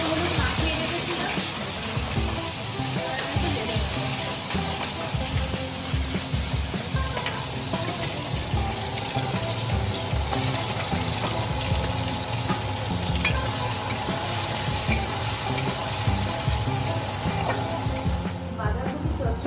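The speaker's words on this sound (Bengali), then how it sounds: "এবার আমি চিংড়ি মাছগুলো ভেজে নিই" Prawns coated in salt and turmeric fry in hot oil for a Bengali prawn and cabbage dish, a steady close crackling sizzle throughout with occasional stirring scrapes and clinks.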